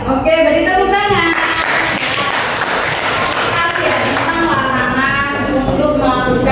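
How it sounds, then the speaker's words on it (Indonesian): A classroom audience claps together during an Indonesian school lesson. The dense, steady applause swells in the middle, with talking before and after it. "Oke, beri tepuk tangan."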